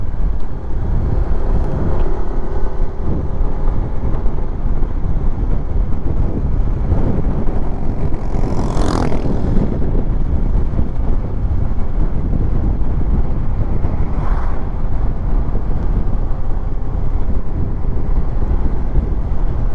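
Wind roars into a full-face motorcycle helmet with the visor closed while riding a mountain road, a loud constant rush and buffeting that never lets up, with a couple of brief higher whistles.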